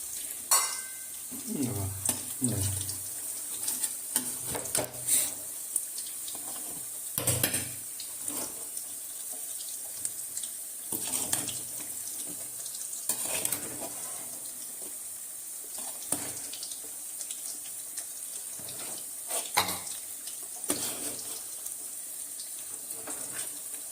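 Chicken biryani rice turned over and stirred in a pot, with intermittent scraping and clattering strokes of a ladle against the metal over a faint sizzle, spaced irregularly across the stretch.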